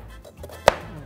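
A knife dices onion for a mango peach pineapple salsa, giving a single close, sharp chop on a board against quiet room noise.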